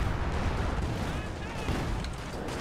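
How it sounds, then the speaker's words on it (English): Light 105mm artillery barrage in Company of Heroes 2, a dense rumble of booming shell impacts and gunfire rolling continuously, with commentary voice talking over it. "And the light 105 barrage is going to be called in by Jesulin"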